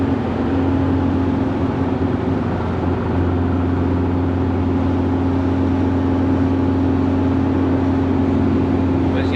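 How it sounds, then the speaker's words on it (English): Steady engine drone from a VW Beetle pulling in fourth gear from 90 km/h, heard from inside the car as a constant low hum with a sustained tonal band, loud and unbroken, with no voices. "that's fourth gear, you know, accelerating from 90 kilometers an hour"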